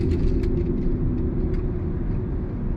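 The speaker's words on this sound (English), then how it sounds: "You can hear under the regen braking that sound." Low, steady rumble of a 2023 Mercedes-Benz EQE 350 electric sedan under regenerative braking, a smooth droning hum inside the cabin with faint road noise and no voices.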